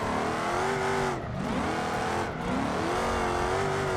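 Car drifting at the Hot Road Drift Free Roam event in BeamNG, with a loud, steady engine held near the limiter that briefly dips twice between long sustained slides, tire noise running underneath throughout.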